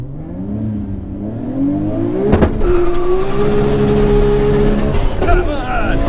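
An 800 bhp Nissan GT-R accelerates down a quarter-mile drag strip: a loud engine note climbs in pitch, then holds a strong steady drone, with voices in the background.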